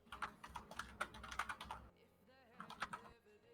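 Rapid keyboard typing clatters in quick bursts of clicks, fairly close, with a brief pause before a few more keystrokes; someone talks softly in the background.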